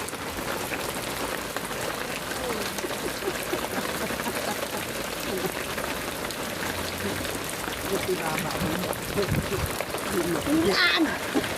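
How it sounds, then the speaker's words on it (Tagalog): Steady rain patters on a surface with a continuous hiss, while voices talk faintly underneath. "Tungod aning ulan guys."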